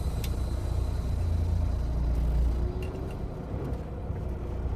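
A car pulling away in first gear gives a steady low engine rumble that swells slightly then eases, close and continuous with faint road noise and no talk.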